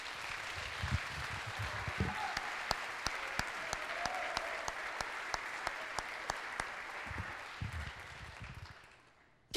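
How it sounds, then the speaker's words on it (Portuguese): A church congregation applauds during an October 2014 service, a steady, dense wash of clapping from many hands with some sharper individual claps cutting through, sustained for several seconds before fading out near the end. "Então toda a igreja aplaude ao Senhor"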